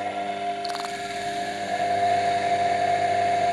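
A washing machine motor reused in a homemade build runs steadily with a droning hum and a thin tonal whine that grows slightly louder partway through, with no talk over it.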